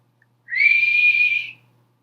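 A voice imitates a whistling teapot, giving one sustained, steady whistle of about a second that rises in quickly and fades out, alone with no talk.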